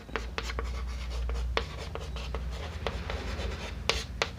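Pen strokes writing notes on paper during a Class 12 chemistry lesson on f-block elements, a steady run of short scratchy strokes and taps, close and fairly quiet, with no talking.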